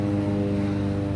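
A crop-spraying airplane drones overhead, a loud steady propeller engine hum with strong low harmonic tones, continuous and unbroken, no talking.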